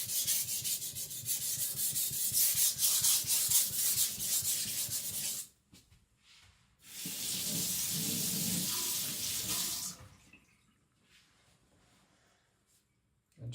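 A Victorinox Chinese cleaver is rubbed back and forth on a whetstone, a steady rhythmic rasping in two long close bursts separated by a quiet pause.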